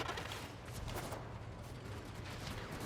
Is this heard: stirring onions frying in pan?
no